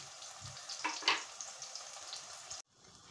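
Steady crackling sizzle of zucchini frying in a pan, with a brief louder burst partway through, then it cuts to near silence at the end.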